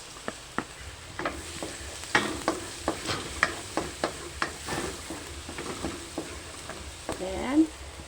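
Garlic sautéing in a hot pan, a steady sizzle broken by repeated sharp ticks and scrapes of a spatula stirring, close and fairly loud.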